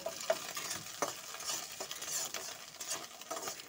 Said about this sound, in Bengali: এখন আরও 1 থেকে 2 মিনিট এভাবে একটু খুন্তিটা দিয়ে নাড়াচাড়া করে নিচ্ছি